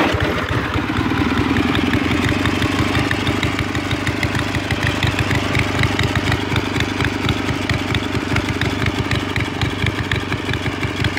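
A 700cc Briggs twin engine converted to horizontal mounting on a go-kart, reported to burn oil from overfilling, runs steadily close by with a loud, even, throbbing idle.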